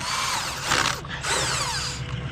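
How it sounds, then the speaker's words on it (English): Pneumatic impact gun breaking loose bolts on a skid steer loader during a winter service, two loud close rattling bursts with a short pause between, mechanical ratcheting and whirring, no talking. "Stick my gun on it. Break it loose."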